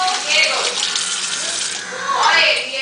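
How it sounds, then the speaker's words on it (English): Tap water runs into a kitchen sink while hands are washed during home-style garlic bread preparation, a continuous splashing stream that swells and shifts as the hands move under it. "Move to the side, turn on the water,"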